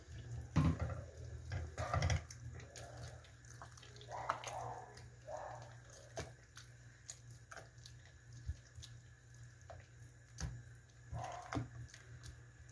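Water poured slowly into a pot of homemade caldo de kenga with cassava and shredded chicken while it is stirred, giving soft splashing and scraping in uneven bursts, close and fairly quiet.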